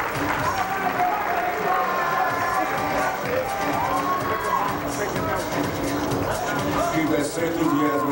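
A pageant crowd in the sportswear round at Miss Gay Black Universe 2004 claps and cheers loudly and steadily throughout, with shouts mixed into the applause and an announcer's voice faintly underneath.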